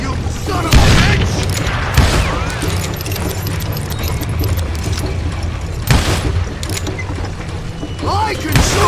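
Loud gunshots ring out in the Western shooter game Call of Juarez Gunslinger, a handful of sharp booming blasts at irregular intervals over continuous game noise and voices.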